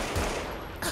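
A loud burst of gunfire in GTA V, with a sharp crack near the start and another near the end of a short, dense stretch.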